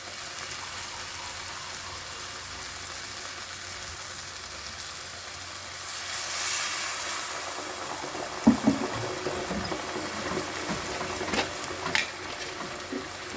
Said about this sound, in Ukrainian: І сюди я додавлю водичку